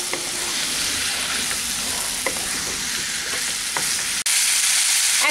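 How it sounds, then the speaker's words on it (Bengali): Boiled vegetables stirred into hot oil in a pan for a sour-spicy vegetarian curry with raw green mango, giving a steady close sizzle with a few brief scraping stirs and no talk. "এখন আমি এর মধ্যে সেদ্ধ করে রাখা সবজিটা দিয়ে দেবো। ভালো করে মিশিয়ে নিচ্ছি তেলের মধ্যে।"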